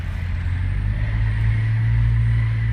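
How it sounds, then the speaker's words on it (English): Tires of a 1999 Jeep Cherokee Sport XJ roll across an epoxy-coated garage floor, giving a steady low rumble and hum that holds evenly throughout with no voices. "That's just the tires on the epoxy floors making that sound"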